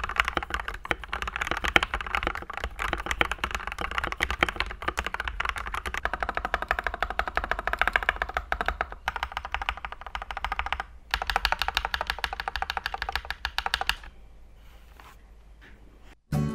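Fast, continuous typing on a mechanical keyboard fitted with Gateron Yellow linear switches, a close, dense patter of clacky keystrokes that pauses briefly, resumes, then thins to a few isolated presses at the end.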